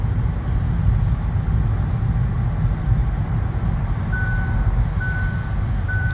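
A Hyundai Ioniq facelift's lane keeping assist sounds a warning tone: a few short, clear electronic beeps repeat from about four seconds in. Steady road and engine noise from the moving car lies beneath them, and there is no talk.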